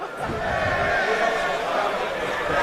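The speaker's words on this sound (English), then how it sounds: "The crowd is going absolutely berserk over the far side." A rugby crowd at a colts grand final between Randwick and Sydney roars from across the field, a loud, continuous wash of cheering that holds steady from start to finish.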